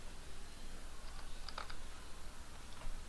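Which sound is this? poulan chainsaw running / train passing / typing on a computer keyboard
typing on a computer keyboard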